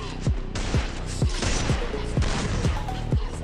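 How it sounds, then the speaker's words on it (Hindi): Repeated gunshots in a mobile battle-royale shootout, sharp cracks every fraction of a second over a steady game background, fairly close and continuous. "ओहो युवराज का हेडशॉट"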